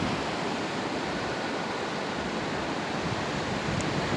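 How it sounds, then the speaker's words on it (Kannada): The Bhima River rushes fast beneath a bridge in North Karnataka, a steady, loud, broadband roar of churning water that holds constant throughout with no voices over it. "ಎಷ್ಟೊಂದು ರಭಸವಾಗಿ ಹರಿತದೆ ಭೀಮಾ ನದಿ"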